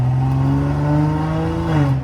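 A BMW 540i with a loud aftermarket exhaust drones steadily, a sustained low engine tone that shifts pitch slightly near the end as the revs change, loud and close with no talking.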